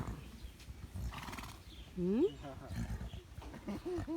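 A horse whinnies on a farm amid nearby chatter and outdoor background noise, with a few short snorting sounds following.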